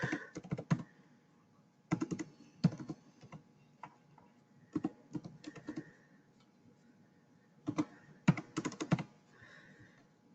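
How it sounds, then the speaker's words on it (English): Barcode digits are typed on a computer keyboard in short rapid clusters of close, crisp key clicks separated by brief pauses, with no talking. "and then I'm going to type in a barcode."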